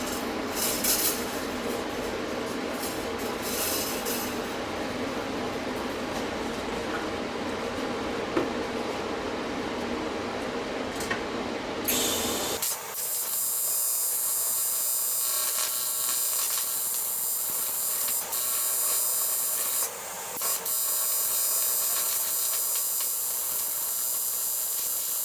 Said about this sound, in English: I'm going to weld this and I'm going to flip the wheel.